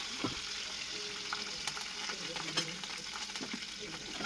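Curry leaves sizzle in hot tempering oil that already holds dried red chillies, giving a steady close-up crackling hiss with a few louder pops and spits, broken by occasional stirring scrapes.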